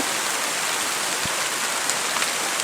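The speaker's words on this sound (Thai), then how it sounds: "ฝนตก" Rain falls steadily in a forest during the rainy season, a dense even hiss with a few sharper drop ticks, close and continuous with no voices.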